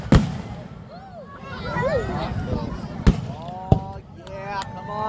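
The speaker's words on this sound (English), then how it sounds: "A few more fireworks." Fireworks go off in a holiday display, three sharp bangs, one at the start and two a little later, ringing out over people talking and exclaiming throughout.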